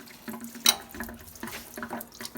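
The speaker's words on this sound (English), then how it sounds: "it's pouring antifreeze all over the floor" Antifreeze coolant gushing from a disconnected hose onto a garage floor during LS turbo coolant reservoir and heater core bypass work, a close, continuous splashing pour with small irregular spatters.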